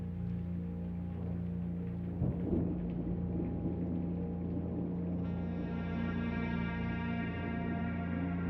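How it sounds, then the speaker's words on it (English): A rain and thunder storm sounds in the video game Blue Prince, with a steady rushing wash over a low rumbling bed, a faint roll near the middle and a tonal ambient hum rising toward the end. "Speaking of rain and storms."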